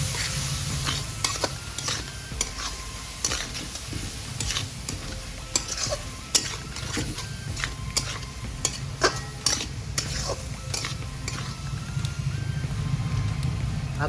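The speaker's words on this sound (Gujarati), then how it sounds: "હવે સારી રીતે મિક્સ કરી દઈશું એને" A spoon stirs tomato sauce for penne pasta in a pan, with steady scraping and clinking strokes over a continuous sizzle, with no talk.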